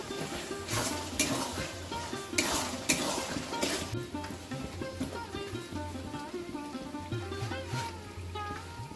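Spice masala with chopped tomatoes sizzles in a pan while it is stirred, giving a busy crackle broken by scraping spatula strokes and clacks, close and steady throughout.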